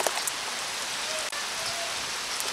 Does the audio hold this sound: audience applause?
no